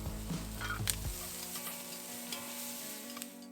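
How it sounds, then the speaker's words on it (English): Tomatoes land in a hot pan with green onions, a burst of sizzle and stirring clatter in the first second, then a quieter steady hiss for the rest, close by with no talking. "Now add the tomatoes and cook for 10 seconds."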